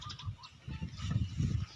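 A duck quacking in a short run of low, throaty honking calls, fairly close and repeated several times over a couple of seconds, with faint background noise and no talking.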